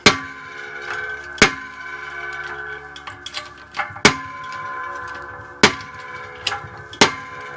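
A shop press forcing the pinion bearing off a Dana axle from a Willys Jeep rear axle, giving sharp metallic cracks and pops at irregular intervals with faint creaks between them, close and clear with no talking.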